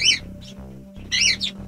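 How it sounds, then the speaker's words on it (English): A bird chirping loudly close by indoors, two bright clusters of sharp tweets about a second apart, separated by a low electronic hum. "So besides the bird being very loud"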